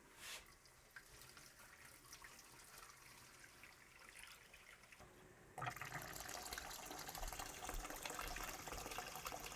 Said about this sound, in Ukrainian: бачите, яка вода грязна? Зараз її треба злити.